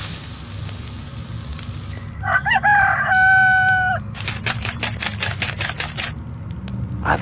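In the Moomin video game, a rooster crows once, loud and clear. A run of rapid mechanical clicks like a typewriter follows it over a steady background hum.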